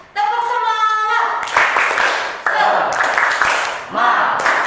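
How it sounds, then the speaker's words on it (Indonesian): Children in a classroom clap out a rhythmic cheer in several quick bursts, with a teacher's voice and children's voices heard alongside the claps. "mari kita bersama-sama dulu tepuk semangat ya"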